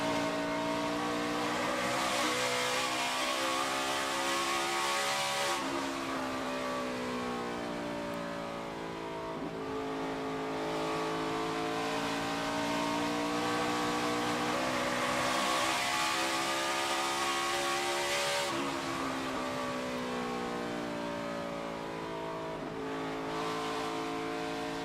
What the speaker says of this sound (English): Riding on board, let's listen to that throttle late in the run.